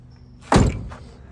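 The door of a 1967 Chevrolet Chevelle Malibu V8 gives a single sharp clunk as it is pulled open, close and brief, with quiet around it.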